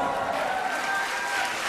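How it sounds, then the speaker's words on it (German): Audience at a children's disco show clapping and cheering, a brief continuous wash of crowd noise with a few high voices carrying over it. "Bitte Applaus."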